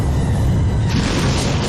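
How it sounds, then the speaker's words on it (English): Movie explosions as a cargo ship crashes into a warship, a loud, sustained roaring rumble that swells with a brighter blast partway through. "they send it crashing into the big warship and it creates a lot of explosions and blows stuff up"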